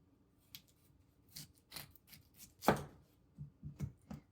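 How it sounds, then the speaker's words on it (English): A kitchen knife slices a raw potato in half during home cooking for chicken soup, giving a few close, crisp cutting strokes and board knocks spaced irregularly, with a stronger chop in the middle. "I'm taking the potato, and just like the carrots, I'm going to cut it in half."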